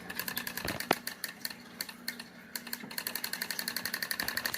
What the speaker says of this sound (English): I'm going to turn on the electronic part of the Adams motor